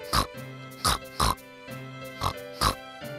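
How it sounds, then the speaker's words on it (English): A farm pig gives about six short, distinct grunting oinks in an irregular rhythm, close and clear with no other sounds between them. "yes, it is a pig."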